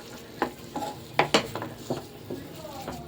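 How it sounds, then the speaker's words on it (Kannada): Pineapple kesari bath with ghee stirred in a pan: a few distinct scraping, clinking strokes of a spoon against the pan at an uneven pace, close and moderately loud over a faint sizzle. "ಚೆನ್ನಾಗಿದು ತಿರುಗ್ಸೋಣ"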